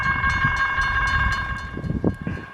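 CSX freight train led by a GE Evolution locomotive rolling past, a steady loud rumble with sustained tonal whine and rhythmic wheel clatter, close to the listener with no talk.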